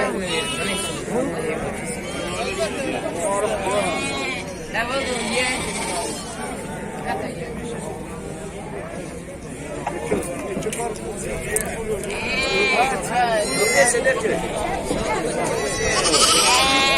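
Lambs and sheep bleat repeatedly at a crowded livestock market in Fuzuli, their cries rising over a constant babble of voices and people talking nearby.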